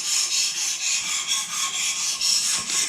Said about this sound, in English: And when you have this, you just start to sharpen like this.